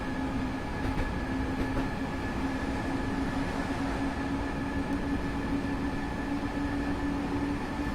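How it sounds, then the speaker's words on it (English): An S-Bahn BR425 electric commuter train on the Hamburg–Hanover line in Train Simulator 2016 rumbles past at close range, a steady continuous roar with a sustained tonal hum throughout and no talking. "Oh, another S-Bahn train over here."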